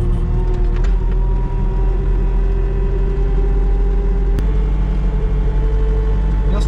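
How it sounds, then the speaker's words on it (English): A skid steer pushes a tire scraper along a dairy cow walkway toward the milking parlor, its engine a loud, steady drone throughout, with one sharp click partway through. "Kinda hard to drive the skid steer one-handed, but all right. So now we just start scraping"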